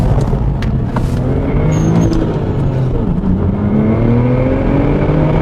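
A Porsche 996 Turbo sports car engine revs steadily under boost with upgrades and all-wheel drive, a loud sustained drone with rising and falling pitch lasting throughout, no voices.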